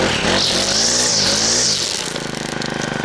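A petrol grass trimmer engine runs steadily at high revs, loud and close, its buzzing drone wavering slightly before settling into a rougher, pulsing idle-like rhythm.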